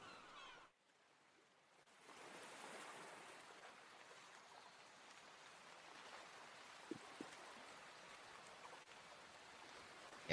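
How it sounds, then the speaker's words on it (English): Rain falling as ambience, starting after a brief quiet gap and settling into a steady soft patter of drops with a few faint ticks, no voices. "You do start to hear the pitter-patter of raindrops."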